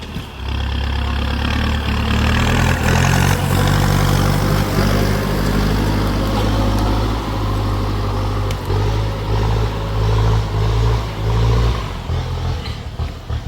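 A loud diesel engine of a Kubota M6040SU tractor runs close by, rumbling steadily at idle with occasional revving, no voices.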